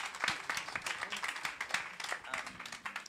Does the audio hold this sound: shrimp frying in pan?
no